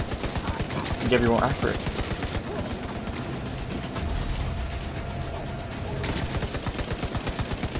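Rapid automatic gunfire in The Division 2, a dense rattling stream of shots running almost the whole time, loud and close, with a voice talking briefly over it.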